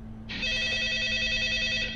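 A telephone rings in a horror video game, a bright electronic bell trill that starts abruptly and holds steadily over a low background hum, with no talking.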